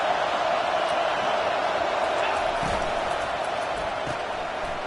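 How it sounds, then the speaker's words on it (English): A dense, roaring college football stadium crowd at Missouri vs Auburn cheers on its defense, holding a loud, steady din throughout, with scattered shouts rising from the mass of noise. "It is getting loud as this crowd tries to help its defense."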